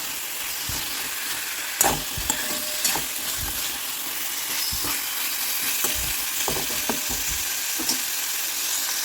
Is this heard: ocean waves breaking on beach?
no